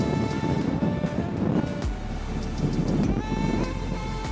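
Strong storm winds of Barbara sweep a beach, a constant loud roar with buffeting gusts and rumbling low surges against the microphone.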